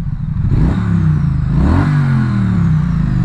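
A Triumph Street Twin motorcycle accelerating hard on the road, its engine revving loud and close with a steady, rising mid-range drone that holds through the whole stretch, no talk over it.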